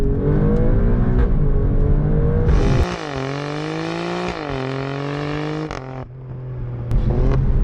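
An Alfa Romeo Stelvio Quadrifoglio with a 510 bhp engine accelerates hard under full throttle, its loud close engine note rising steeply, dipping briefly at gear changes, then climbing again with no talk.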